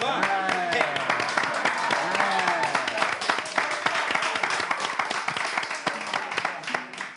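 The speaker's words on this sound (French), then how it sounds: "Est-ce qu'on peut applaudir, s'il vous plaît?" Applause from a crowd, a dense run of claps with voices talking and calling out over it throughout.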